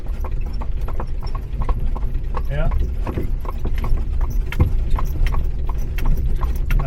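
Horse hooves clip-clop steadily as a horse pulls an Amish buggy along a road near dairy farms. The hoofbeats are close and rhythmic and run under constant road rumble, with a brief spoken word partway through.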